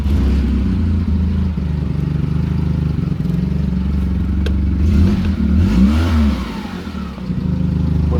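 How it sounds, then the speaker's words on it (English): A Mitsubishi GH Sigma engine, idling in neutral with a hole in the rear muffler, revs up in a steady low rumble with a rise and fall of engine pitch, loud and near, and no talk over it. "We've got a hole in the rear muffler."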